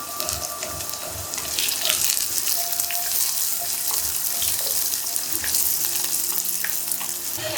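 Garlic, onion and curry leaves frying in oil for Tamil kara kulambu, a steady dense hiss and sizzle with faint scraping, close and continuous with no talk.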